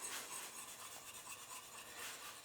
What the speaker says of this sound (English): we gradually whisk in, where's my polenta? Here it is. We whisk in